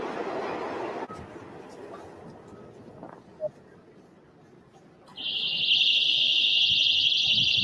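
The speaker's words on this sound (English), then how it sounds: "Balloons have alarms attached to them" A shrill, steady alarm attached to balloons at an activists' protest switches on partway through, loud and continuous over a murmuring outdoor background.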